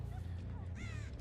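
A crow caws in the Dead by Daylight video game, a couple of short, harsh calls heard faintly over a low background game drone.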